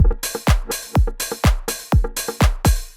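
A reversed audio sample in Studio One chopped into a rhythmic loop, each hit swelling up from silence and cutting off abruptly, loud and repeating about twice per second.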